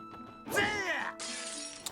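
Enemies smash apart and burst in the video game The Legend of Heroes: Trails to Azure, a loud glassy shatter with ringing tones, then a sustained bright crackling hiss and a final short burst.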